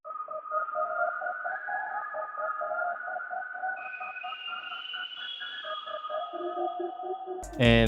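An FL Studio synth melody run through the Portal effect plugin with delay, pitched up an octave, plays as sustained gliding tones with a rhythmic pulse, steady and clear, ending in a sudden loud burst.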